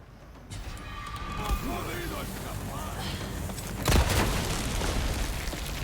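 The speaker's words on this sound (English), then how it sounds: "you can just shoot right on the dynamite and blow it up out of their hands" In Resident Evil 4, a dynamite stick is shot out of an enemy's hands and explodes: a deep booming blast near the middle, with a smaller thud earlier, over a rumbling game soundscape.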